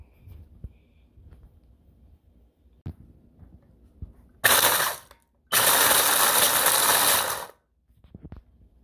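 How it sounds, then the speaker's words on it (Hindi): An electric spice grinder blends roasted spices in two loud whirring bursts, a short one then a longer two-second run, with quiet kitchen clatter before and after. "इसको जो है मैं अपने ग्राइंडर में, जो कि स्पाइस ग्राइंडर है, इसके अंदर डाल के तो इसको ब्लेंड करती हूँ अच्छा सा"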